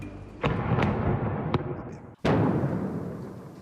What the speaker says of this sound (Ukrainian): Вибух, ціль досягнуто.